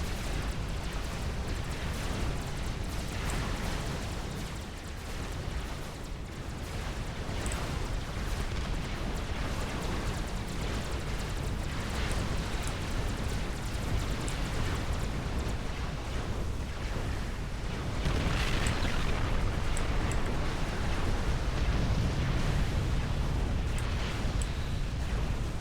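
Artillery fire from an experimental ultra heavy artillery support bot in a video game battle, a dense continuous rumble of blasts and booms, loud and unbroken with a heavier surge near the end.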